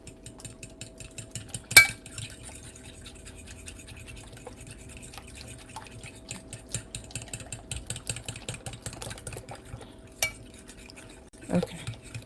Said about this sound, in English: I think this, I might need the fork to whisk it.